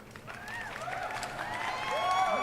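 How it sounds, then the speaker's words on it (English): A short burst of crowd applause and cheering from an Android app running in an emulator, with whooping voices rising over the clapping and growing slightly louder toward the end. "When our app loads, we should hear some awesome applause."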